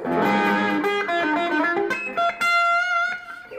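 A Guild electric guitar with DeArmond pickups plays a short phrase of notes and chords with a gritty, distorted tone, loud and close.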